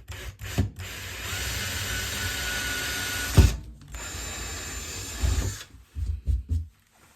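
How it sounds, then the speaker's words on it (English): A power drill bores holes into a slick surface while a shoe rack is built, with two long whirring runs separated by a pause, followed by short clunks and handling noises. "So let's drill some holes."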